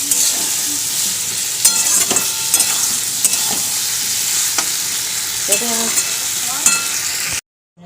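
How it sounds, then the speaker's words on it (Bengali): Soybean curry is stir-fried in a pan with a constant close sizzle, with repeated scrapes and taps of a spatula against the pan through most of the stretch before it cuts to silence. "সোয়াবিন কষা করবো"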